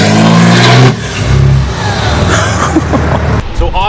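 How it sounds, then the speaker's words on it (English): A lifted diesel truck with deleted exhaust and a large 8-inch stack revs loudly up close, a deep roaring engine that drops briefly and then surges again, heard alone. "This truck sounds amazing."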